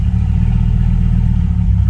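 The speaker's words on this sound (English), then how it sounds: "And this is with the exhaust cutouts open." Dodge Ram SRT-10 pickup with its Viper engine idling with the exhaust cutouts open, a loud deep throbbing rumble, steady and close, with no talking.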